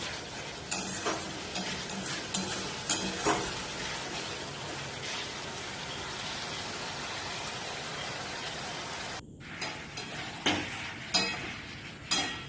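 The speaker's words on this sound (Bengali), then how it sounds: "মশলাগুলো হয়ে গেছিলো মাংসটা দিয়ে দিলাম এবার মাংসটা কিছুক্ষণ কষাতে থাকি" Chicken sautéed in a thick spice masala sizzles in a pan with repeated scraping and clinking stir strokes, a short pause, then more sharp clatters near the end; no talking.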